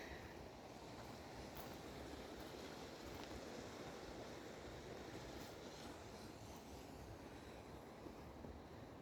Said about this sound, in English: Yeah, really no path down to the river, but nice, soothing, rushing water sounds.